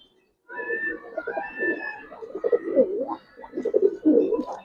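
Giribaz pigeons coo close at hand in a series of soft, throaty, rolling calls, with a brief higher note near the start, clear and fairly near against a quiet background.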